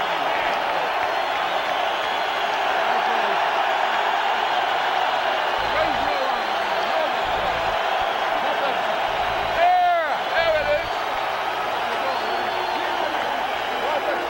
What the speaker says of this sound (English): And listen to the crowd response for Vitali.